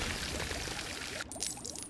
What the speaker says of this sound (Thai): ยิงให้น้ำไหลออกมา